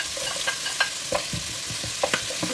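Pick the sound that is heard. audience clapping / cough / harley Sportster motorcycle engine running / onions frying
onions frying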